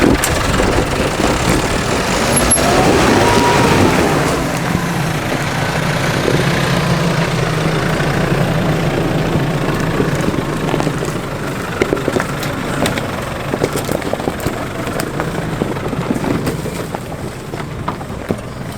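A 4x4 crawls up rocky steps on a tight bush track in first gear low range, its engine idling with a steady, loud low rumble throughout and occasional rattles and knocks from the vehicle over the rocks.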